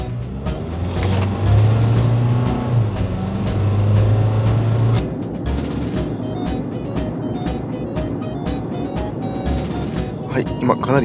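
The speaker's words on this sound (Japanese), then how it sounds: "今かなり急な下り坂を走行しています" A Nissan Caravan van with automatic transmission in manual mode descends a steep downhill road using engine braking, its steady engine and road noise continuous beneath someone talking throughout.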